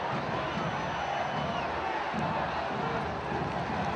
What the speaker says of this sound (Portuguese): E a torcida pede um pênalti